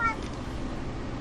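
A house cat gives a short meow at the very start, a faint, fairly distant call over steady room noise, then nothing more from it.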